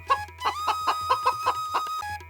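A hen clucks in a quick run of about eight evenly spaced, close calls, loud and clear with no talking over them.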